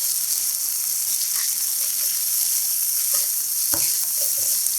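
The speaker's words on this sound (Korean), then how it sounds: "아삭한 숙주 크게 한 줌, 부추를 넣고 골고루 설렁설렁 30초 정도" Rice noodles stir-fried with a handful of bean sprouts and chives in an oiled pan, a continuous close sizzle with soft tossing scrapes and a sharper clatter near the end.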